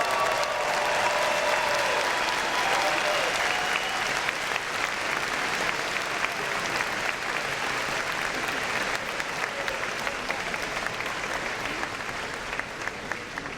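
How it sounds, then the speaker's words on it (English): A long, even round of applause at a university commencement diploma ceremony as graduates turn to clap for their families, filling the hall at moderate level from start to finish. "give your loved ones a round of applause"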